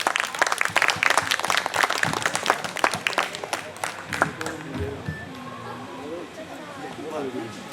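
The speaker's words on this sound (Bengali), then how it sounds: "জোরে হাততালি" An audience at a Navami celebration claps loudly for a performer, with a dense burst of applause that thins out and fades while voices talk over the tail end.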